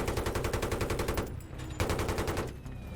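Coaxial machine gun on a tank in Battlefield 3 firing in rapid sustained bursts, a loud, even rattle that breaks off briefly twice before resuming, with no talk over it.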